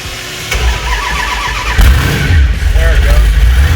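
An old wagon's engine cranking and catching after the key is turned, with a Moon Eyes gas pedal pumped beforehand; a loud, close start that settles into a rough, rumbling idle while a person talks over it.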